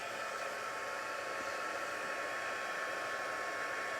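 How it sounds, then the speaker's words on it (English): A craft heat tool blows hot air in a steady, loud broadband whoosh that holds constant from start to finish, with no voices over it. "we're gonna heat this. Grab my heat tool here."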